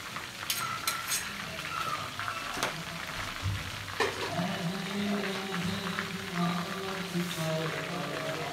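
Chicken frying in a pan for a dabu charga-style dish, a steady low sizzle and crackle throughout with occasional stirring clinks, moderately quiet and close.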